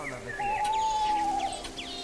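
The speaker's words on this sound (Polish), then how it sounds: "Szelest liści. Ptaki! O, i sowa nawet jest." Forest birds call in a children's audio drama: a clear sustained whistle and scattered chirps and tweets ring out close over a soft, rustling backdrop.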